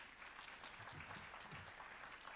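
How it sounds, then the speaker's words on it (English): Applause from a conference audience at a congress on tall timber construction, a steady wash of clapping at moderate level lasting the whole moment, with faint voices underneath. "Merci de l'applaudir."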